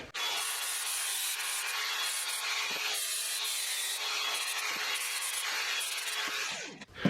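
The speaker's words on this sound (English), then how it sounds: "This is a pretty rough grit sandpaper, 80 grit, so it's rough." Rough 80-grit sandpaper rubs over a metal trailer hitch in steady, continuous back-and-forth strokes, close and even for several seconds before stopping, with no speech.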